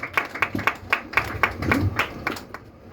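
Audience clapping in a church, a steady rhythmic beat of hands striking together in time, fairly close and moderately loud, with no talk over it.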